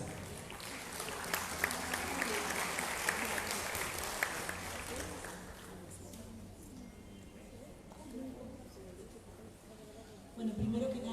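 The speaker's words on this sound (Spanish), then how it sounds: "a quien vamos a recibir con fuertes aplausos" Audience applause welcoming a speaker at an education talk, a dense wash of clapping for about five seconds that fades into room murmur and a voice beginning to speak.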